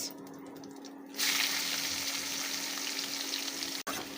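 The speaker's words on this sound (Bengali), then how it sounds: "পেঁয়াজটা আমার খুব সুন্দর করে বাদামি কালারের হয়ে আসছে" Steady sizzling of onions frying in a pan, a broad hiss that swells louder after the first second and continues evenly with a faint hum underneath.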